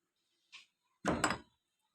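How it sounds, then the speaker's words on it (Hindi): A house door swings shut with a short creak followed by a solid thud and brief rattle, close by in a quiet room. "और दरवाज़ा बंद कर देता हूँ।"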